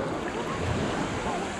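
Sea waves wash steadily at a beach in Dyurso on the Black Sea coast, a continuous broadband surf wash with wind noise buffeting the microphone and no speech.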